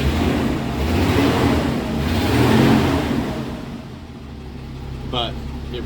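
The engine of a 1982 Ford Fairmont, a 40-year-old car that sat unused for seven or eight years, runs a little rough, with a loud, close rumble that rises and falls unevenly throughout.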